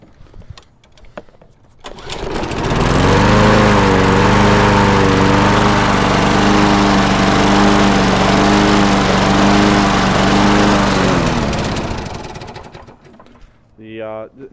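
Small engine restarted and running at low idle, needing a throttle cable, a loud steady drone with a wavering harmonic hum that starts abruptly, holds for about ten seconds, then cuts off, followed by brief speech.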